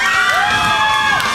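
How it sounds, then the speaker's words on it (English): A loud wrestling arena crowd cheers and shouts continuously at a battle royal event, with whoops rising over a dense, steady roar throughout. "Listen to this crowd go!"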